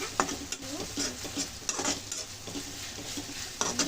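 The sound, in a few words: ginger garlic paste frying and stirred in oil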